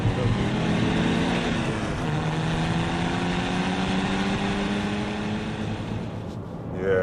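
A BMW E90 330d with the 3.0-litre M57 diesel pulls hard after a downshift, its engine note rising steadily in pitch through several seconds of acceleration, heard from inside the cabin before easing off near the end.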